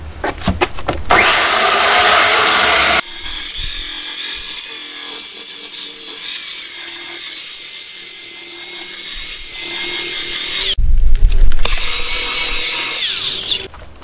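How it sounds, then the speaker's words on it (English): Power sander working the top of a live edge wood bench, a steady whirring grind with abrasive rubbing that drops quieter in the middle and comes back louder near the end before stopping. "now I have it sanded on the top"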